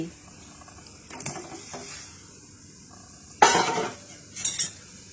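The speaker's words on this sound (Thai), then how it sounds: "กะทิเริ่มเดือดแล้วค่ะ เทเนื้อไก่ลงไปเลย" Utensils clink against a pot, then a wet splash and clatter as chicken pieces are poured into boiling coconut milk, followed by more stirring clinks.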